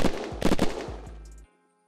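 Gunfire in the video game Unturned: a quick burst of about five sharp, loud shots within a second, then a short trailing ring before silence.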